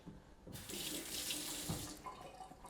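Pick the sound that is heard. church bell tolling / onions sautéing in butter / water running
water running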